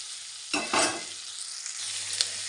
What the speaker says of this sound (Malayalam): സവാള ചേർത്ത് കൊടുത്തിട്ട് നന്നായിട്ട് തന്നെ ഇളക്കി കൊടുക്കുക.